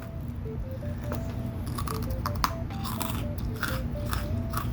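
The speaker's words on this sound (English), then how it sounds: "I love that crunch." Freeze-dried, all-natural mango pieces crunch in a series of crisp, close bites and chews over a steady background melody.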